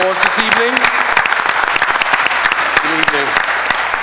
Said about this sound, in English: Let's give Angeline a big round of applause this evening